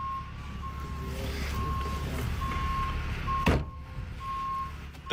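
A truck slowly backing up, sending out a steady series of evenly spaced reversing beeps over a low engine rumble, with a brief bump or knock partway through.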